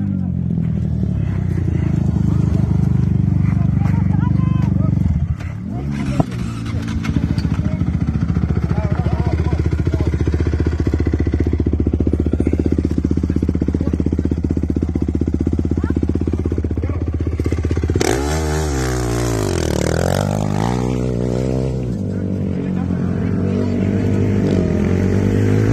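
Racing motorcycle passing along the straight at a track event, engine roar building and sweeping by with a pitch drop as it passes, under excited spectator voices, with a second pass later.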